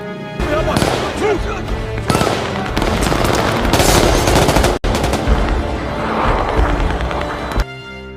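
A gunfight at a dam in the film The Covenant, about Taliban fighters: dense machine-gun bursts and rapid gunfire crackle loudly through most of the scene, broken by one brief dropout before the shooting resumes.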